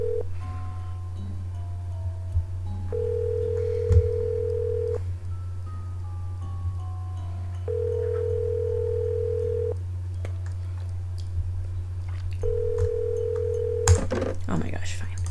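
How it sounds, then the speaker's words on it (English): Repeated electronic phone ring tones in a video game, sounding in separate bursts several times over a steady low hum, with faint clicks and a sharp noise near the end. "Answer the phone."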